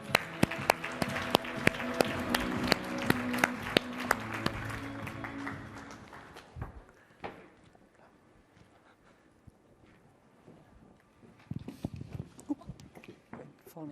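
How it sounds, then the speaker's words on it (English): Applause from a summit audience greets someone speaker taking the stage, a dense patter of many hands that thins out after about six seconds into scattered claps and room noise, rising briefly again near the end. "let's give her a great applause."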